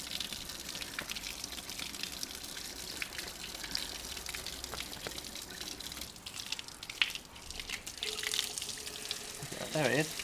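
Cooling water bubbles and trickles from the outlet of a Mariner 4hp two-stroke outboard, a steady close-up watery gush with small drips and splashes, faint voices in the background.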